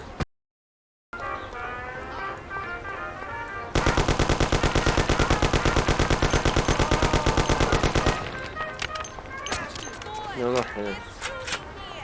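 Machine-gun fire in the Mafia video game, a fast sustained burst of close, loud shots lasting several seconds, with shouting voices and game noise before and after it.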